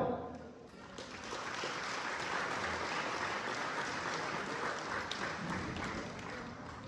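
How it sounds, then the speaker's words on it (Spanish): Audience at a quinceañera in Las Animas, Tecoanapa breaks into sustained applause, a dense steady wash of many hands clapping that swells and holds for several seconds before tapering slightly. "Pido al público que le brindemos un fuerte aplauso"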